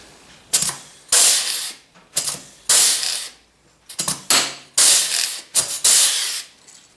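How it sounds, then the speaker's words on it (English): An air riveter sets rivets in the track of a 1974 Polaris Custom II snowmobile, giving loud close bursts of pneumatic hissing and clattering pulls, about eight in an uneven rhythm with short quiet gaps between. "You can see how much easier this air riveter makes,"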